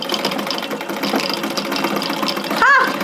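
A restored vintage Pfaff 30 sewing machine stitches fabric in a fast, steady mechanical whir, with a brief whistling squeak near the end.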